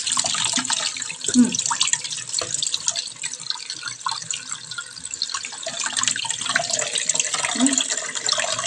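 Tap water runs steadily into a sink during washing up after a meal, a continuous splashing stream with small drips and clatters, fairly close and with no talk over it.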